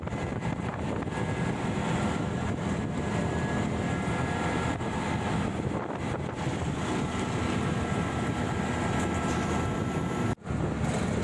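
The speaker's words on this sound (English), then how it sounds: "My first ever tuk-tuk ride" A tuk-tuk ride in Cambodia: a steady, loud engine drone blends with heavy wind rush against the microphone and holds unbroken for about ten seconds, then dips briefly near the end.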